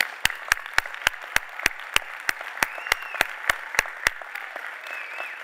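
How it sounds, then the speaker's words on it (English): A few scattered, sharp claps ring out at a steady pace during a 2023 Goose Creek Memorial High School graduation ceremony, sparse and echoing in a large hall, with a low murmur underneath. "Please join me in applause"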